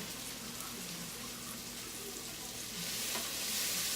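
Celery and rosemary sizzle in a pan during holiday dinner prep, a constant close frying hiss that swells slightly toward the end, with no talking.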